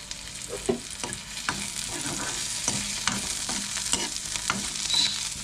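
Onion and curry leaves frying in a pan, a steady close sizzle with repeated scraping stirs of a spoon at an even rhythm.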